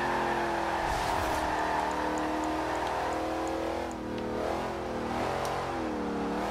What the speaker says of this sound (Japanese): これいいドリフトじゃないの